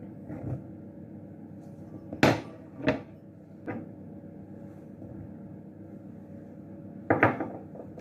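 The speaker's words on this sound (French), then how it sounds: "on va commencer à mélanger d'abord tout ce qui est solide, donc c'est-à-dire la farine de blé, le F1 champignon et la levure chimique" Wheat flour, mushroom and baking powder mixed in a bowl, heard as a handful of scattered knocks and scrapes of a utensil against the bowl spread over several seconds, with quiet pauses between and no voices.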